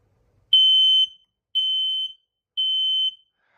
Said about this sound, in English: I'm going to be doing a monthly test of all of my residential smoke detectors